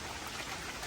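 Steady rain pours down outdoors in the Cairns region of Queensland, a dense, even hiss of drops on surfaces with no pauses and no voices.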